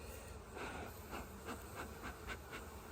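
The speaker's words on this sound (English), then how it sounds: "let the bees kind of fly off of them and do what they will" Honeybees buzz around an open hive during an inspection, a soft, continuous droning hum with several passes swelling and fading as individual bees fly close by.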